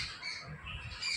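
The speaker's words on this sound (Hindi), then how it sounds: "देखिए चिड़िया आ गई, मैं बात कर रही हूँ और ढेर सारी चिड़ियाएँ आ गई हैं।" A flock of birds squawks and chirps continuously at a house. The calls are faint and distant and blend into steady background noise.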